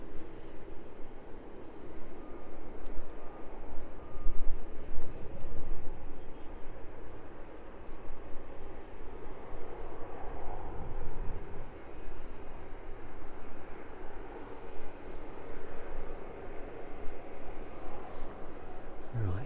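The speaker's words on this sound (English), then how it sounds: "The Ryanair entering runway 27 are lining up on the centre line." A Ryanair jet lining up on runway 27 at East Midlands Airport, heard from a distance as a steady, broad engine rumble and roar that holds throughout with slight swells.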